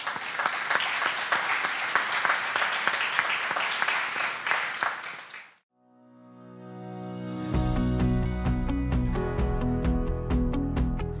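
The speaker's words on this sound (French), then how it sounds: "une bonne main d'applaudissements pour M. Rioux." An audience applauds an outgoing mayor with forty years in politics, a dense burst of clapping that fades out after about five seconds, followed by unrelated music.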